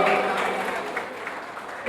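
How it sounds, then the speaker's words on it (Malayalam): Guests at a Kerala wedding reception clap in a dense burst of applause that carries steadily and then trails off, with a brief voice at the very end. "അപ്പൊ എല്ലാവരും കൈയടിച്ച് സപ്പോർട്ട് ചെയ്ത മിക്കുവിനെ."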